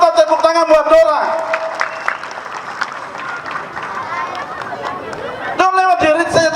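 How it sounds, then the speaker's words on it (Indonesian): A crowd at an outdoor speech marking a regent's three years in office claps hands in a rolling round of applause, with amplified talk over the start and the end. "Lebih keras lagi buat orang Biak yang mata buta, tepuk tangan buat dorang"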